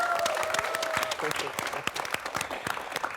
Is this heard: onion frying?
no